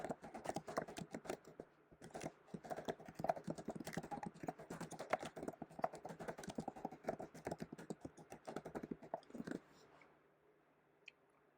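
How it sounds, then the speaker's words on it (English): Fast, continuous clatter of keys on a computer keyboard while a question is typed, quiet and close, running steadily for about ten seconds before stopping. "You can start typing your question."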